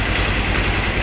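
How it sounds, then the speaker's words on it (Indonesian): A motorcycle engine idles while warming up before a ride to work, a steady loud low rumble with an even, unbroken drone and no voices. "Ini manasin motor."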